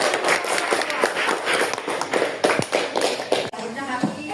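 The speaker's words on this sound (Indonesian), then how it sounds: "Beri tepuk tangan untuk teman." Classroom applause from students at an Islamic studies lesson in an Indonesian school, a busy patter of many hands clapping close by with voices mixed in, continuing for several seconds.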